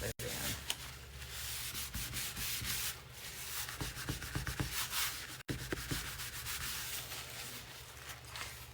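A napkin rubs against a pumpkin surface in quick, scratchy back-and-forth strokes, close and soft, with brief pauses between passes.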